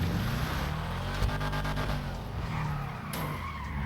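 A car skids in a video game, a continuous loud tire screech and engine roar over a dense noisy mix, with a sharp squeal spike near the end.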